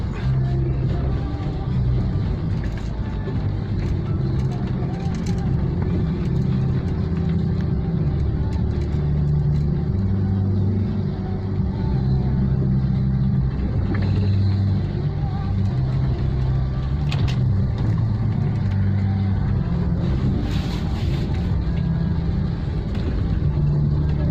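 Dense, slow-crawling city traffic in Palembang on an afternoon: a steady low rumble of engines and road noise fills the whole stretch, close and continuous, with occasional higher engine whines.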